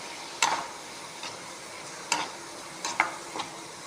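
Curry leaves sauté in a pan for a cabbage omelette, with a soft, steady sizzle broken by several sharp scrapes and clinks of a spatula stirring against the metal.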